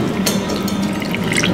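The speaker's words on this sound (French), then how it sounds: "je vous sers le bouillon de champignons" Mushroom broth poured from a vessel into a dish at a restaurant table, a soft continuous liquid trickle and splash lasting a moment, close by and without talk.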